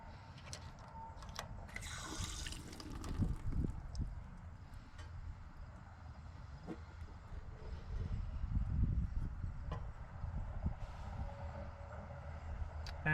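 Water and built-up pressure let out of an E-Pro E20BHS camper hot water heater make a steady, rushing gush that swells and continues throughout, with no talking.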